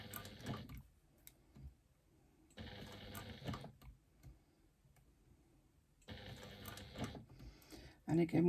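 A sewing machine stitching a wristlet seam close to the edge, running in three short bursts of rapid mechanical ticking separated by quiet pauses, close by.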